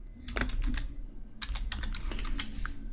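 Close, steady clatter of keys being pressed on a computer keyboard while entering a database query, quick irregular keystrokes running throughout.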